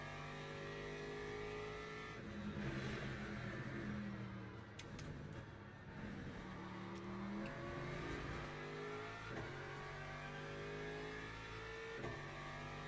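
Race car engine in the game Le Mans Ultimate, revs repeatedly climbing and dropping as the throttle is worked, loud and continuous with gear-shift steps.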